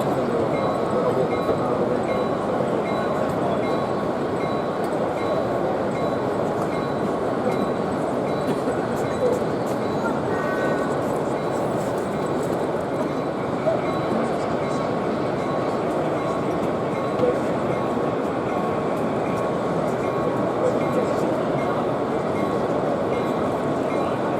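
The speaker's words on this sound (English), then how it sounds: "a double O gauge layout with American stock, as we see Bachmann, DCC Sound, American stock at work" A Bachmann OO gauge model train of American stock runs with DCC sound on a layout at a model railway show, giving a continuous rumbling, rolling drone mixed into steady hall ambience.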